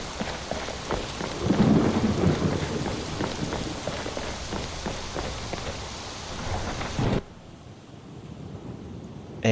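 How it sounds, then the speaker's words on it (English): Heavy rain and rolling thunder in a heavily modded Skyrim, with a dense, continuous downpour and a deep rumble swelling early on. The storm cuts off abruptly near the end, leaving near silence. "let's hope that the rain stops at some point"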